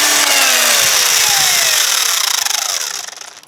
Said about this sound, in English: I'll grind the front part of the toe.